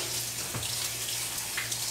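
Cool tap water runs steadily from a faucet over freshly picked flowers being rinsed in a colander, a soft continuous splashing hiss with a low hum beneath, close and without talk.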